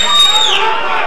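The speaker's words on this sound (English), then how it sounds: "The crowd on its feet." Boxing crowd on its feet during a close round five, a loud continuous roar of cheering and chatter filling the hall with a brief whistle-like tone on top.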